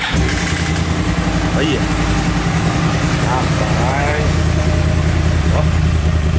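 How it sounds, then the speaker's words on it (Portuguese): A motorcycle with a cross-plane engine, seen in a dealership, starts and settles into a loud, rough idle that runs throughout, with a few revs, while someone talks over it. "vamos dar uma ligadinha nela, que eu sei que vocês querem ouvir um ronco, né?"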